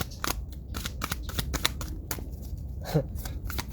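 Crystal oracle cards being shuffled by hand, a rapid run of crisp papery riffles and flicks, close and fairly clear, with no talking over them.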